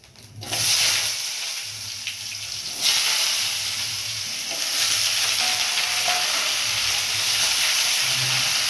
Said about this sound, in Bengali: এবার পেঁপে আলুটা একটু কষিয়ে নেব